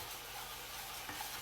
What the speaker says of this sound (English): you're going to add that until it's all nice and frying up, bubbling, and you can see and hear that